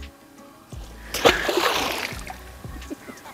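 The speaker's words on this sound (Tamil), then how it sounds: "தொட்டாச்சு, தண்ணிய தொட்டாச்சு." A hand splashes into a clear mountain stream in Munnar, one close, bright splash swelling into sloshing and dripping for about a second, with softer water movement before and after.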